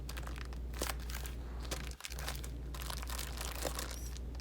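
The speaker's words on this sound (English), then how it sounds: "press down and even fold and roll your Ziploc bag, and that helps get the extra air out of your vegetables" A plastic Ziploc bag of frozen vegetables is pressed, folded and rolled to squeeze out the air, giving a faint, continuous crinkling and rustling close by with a short pause partway through.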